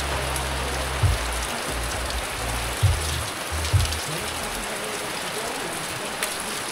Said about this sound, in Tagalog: Ngayon bumagsak na naman yung ulan.